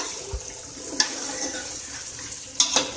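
A spoon stirs cubed tomatoes into a simmering potato and fish curry in a pan, with soft wet scraping and a few sharp clinks against the metal over a quiet bubbling sizzle.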